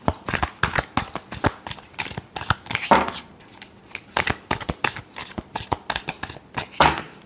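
Tarot cards shuffled by hand in a rapid run of crisp riffling slaps, steady and close, with no voices over it.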